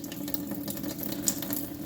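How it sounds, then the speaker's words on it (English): Warm water pours from a tap into pupusa dough in a kitchen, a steady close trickling splash running throughout with no talk. "And then you add water little by little."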